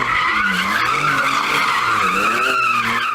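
A BMW car slides with its tires squealing loudly and continuously, the high screech wavering over a steady engine drone, close by, with no talking.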